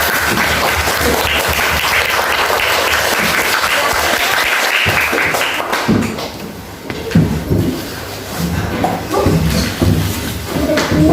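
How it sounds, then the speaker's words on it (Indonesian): Classroom applause for a student group after they answer a question on gravity, broad clapping from the whole class filling the first half, then thinning into scattered claps, shuffling and murmuring voices. "Tepuk tangan buat kelompok A."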